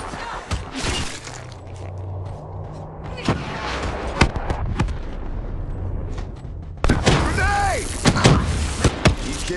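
A grenade blast and gunfire in a military shooter video game: a run of sharp gunshots and shattering bursts spread across the clip, then a loud broadband explosion near the end, with game radio voices and effects mixed in.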